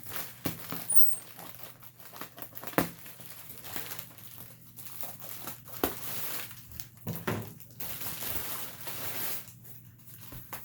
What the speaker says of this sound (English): Some more bubble wrap.